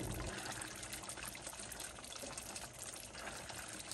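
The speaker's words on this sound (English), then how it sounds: "I'm gonna just pour some of that fragrance oil right down into my wax." Fragrance oil poured from a bottle straight into melted candle wax, a faint, steady trickle that continues throughout with no talk over it.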